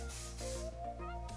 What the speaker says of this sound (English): I'm kind of just spraying wherever